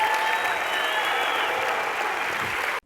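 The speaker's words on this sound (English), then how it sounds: "Would you give them a round of applause?" A round of applause from an audience at a talk, dense steady clapping that fills the room at a constant level, then cuts off abruptly near the end.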